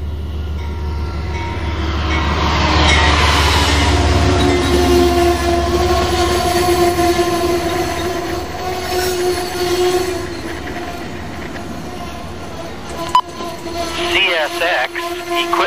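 An Amtrak train rolls loudly and steadily past Amsterdam station on CSX track in fall, wheels squealing and rail noise building then easing, with a brief horn-like tone and a sharp clank near the end.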